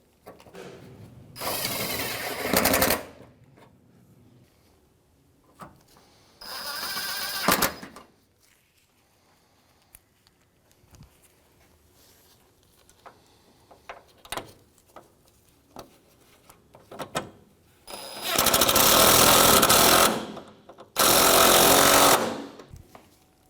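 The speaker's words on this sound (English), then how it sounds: "I'm going to go ahead and reinstall our 10mm bolts." Bolts being run back into a 2007-2013 Mitsubishi Outlander headlight mount with a power tool: two short whirring bursts early, then quiet handling clicks, then two longer, louder bursts near the end, with no talking.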